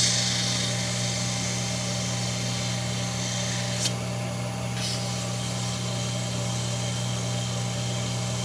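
Steady high-speed whine of a wood lathe spinning a wooden wine glass stem with a laminate edge, a constant hum with rubbing friction that briefly dips and returns midway.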